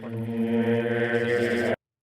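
A sustained, dense drone of longer asynchronous grains built with granular synthesis in SuperCollider, steady and smeared for under two seconds before cutting off abruptly into silence.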